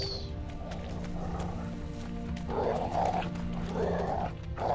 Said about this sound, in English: That dog sounds half fucking feral